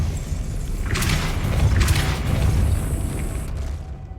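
A Depulso spell blast in a video game bursts out as two close, forceful whooshing booms over a steady low rumble, then fades to a hissy tail.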